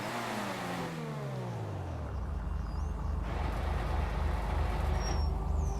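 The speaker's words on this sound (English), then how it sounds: "So let's take this car on its test drive now." Benefactor Krieger supercar driving in GTA 5 Online: a loud engine note sweeps down in pitch, then settles into a steady, close, low rumble with no talk.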